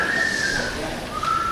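A person whistles two sustained tones, a long steady note followed by a lower one after a short pause, close and clear over a noisy room during a high school homecoming variety show.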